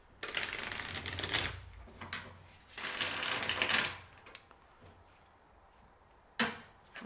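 A deck of cards being shuffled close by, with two long riffling bursts of rapid flapping and a short sharp riffle near the end, separated by quieter pauses.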